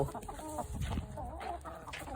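Several chickens cluck close by in a busy, continuous chatter, with short bursts of rustling and movement among them.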